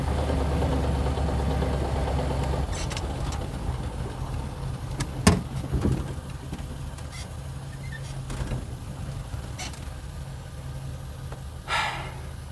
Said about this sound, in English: So that's our first ride in the 41 Ford.